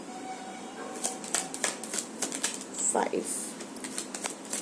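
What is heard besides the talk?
tarot cards being drawn from the deck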